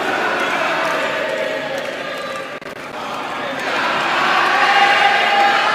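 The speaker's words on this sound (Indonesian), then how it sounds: "langsung saja kita akan berikan tepuk tangan sekali lagi untuk pasangan nomor urut" Crowd at a televised East Java gubernatorial debate cheering and clapping for a candidate pair, a loud, steady roar of voices that dips briefly and then swells stronger.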